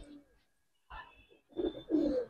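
Giribaz pigeons cooing at close range, a few short throaty coos in separate bursts, the last ones fuller and louder, with quiet gaps between.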